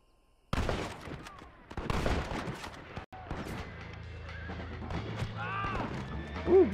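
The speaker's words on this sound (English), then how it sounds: "Bust out that sniper rifle." Sniper rifle fire and a busy gunfight in Red Dead Redemption, with sharp shots and volleys mixed with horse neighs and hooves, a brief dropout midway, then steady game ambience and a closing high whinny.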